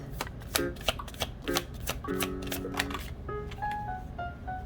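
Tarot cards shuffled and drawn by hand, a run of crisp snapping riffles and flicks, close and fairly loud, with short ringing tones near the end.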